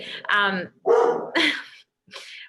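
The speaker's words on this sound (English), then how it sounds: "sorry, my dogs" Dogs barking at someone at the door indoors, a few sharp close barks and yips in quick bursts with short gaps.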